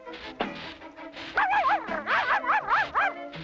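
Puppy, the cartoon dog from The Smurfs, lets out a quick string of high yips and small barks, starting with one sharp yelp and then a rapid run of excited calls, close and loud with no speech.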